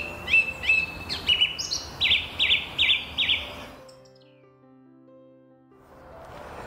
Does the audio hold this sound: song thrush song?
yes